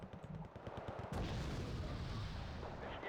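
Artillery shelling booms in the strategy game Wargame: Red Dragon: faint rhythmic thuds give way to a sustained, loud roll of explosions that fills the rest.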